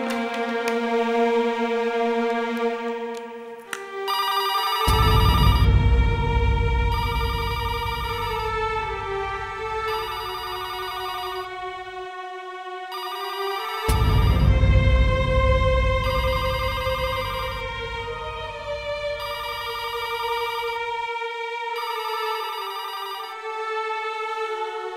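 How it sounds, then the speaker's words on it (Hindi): A telephone rings steadily in repeated electronic trills, with a melodic ringtone-like tune running alongside throughout, loud and continuous with no talking. "रिंग तो हो बता पर कोई उठाते नहीं खे।"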